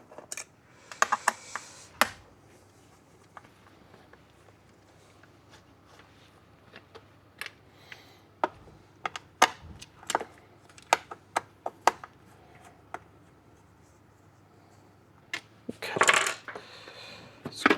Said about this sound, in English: Case is held on by 7 3mm hex head screws. So we'll go ahead and take those out.